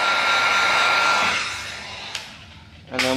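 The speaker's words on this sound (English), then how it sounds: "you're gonna get your heat gun" A heat gun blows hot air over vinyl wrap on a roof panel, a steady loud broadband whoosh that fades out midway, followed by a brief click and the blower starting up again with a whine at the end.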